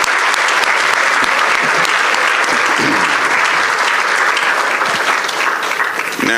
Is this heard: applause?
yes